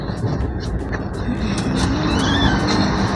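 Duronto Express train near Patna running at speed, a steady broadband rumble of wheels and rushing air throughout, with intermittent clicks and a faint high squeal, loud and continuous.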